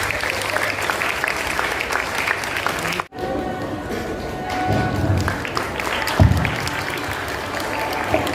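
Audience applause at an Urdu day stage event, dense sustained clapping from a crowd that breaks off briefly and then resumes, loud and close, with no talk over it.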